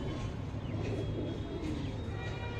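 Young pigeons among a pigeon collection coo softly and repeatedly over a constant low background hum, with faint chirps mixed in and no one speaking.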